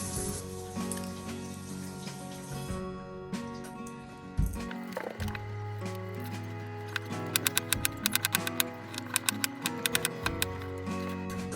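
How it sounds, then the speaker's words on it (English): A knife dices an onion on a cutting board for beef stew, making a run of quick, sharp taps close by that grow denser toward the end, over background music. "I cut the onion in half, and then I lay it flat and then dice them"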